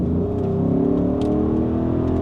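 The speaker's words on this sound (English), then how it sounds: "that V8 sound is just tremendously nice" An Audi SQ7's V8 engine revs up, its pitch rising smoothly over a couple of seconds, loud and close, with no talking.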